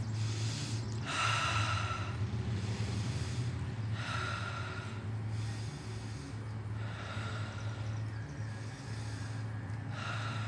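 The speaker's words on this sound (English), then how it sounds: "So I'm going to take a few deep breaths." A few slow, deep breaths drawn in and let out one after another during a quiet meditation, each a soft airy rush, over a steady low hum.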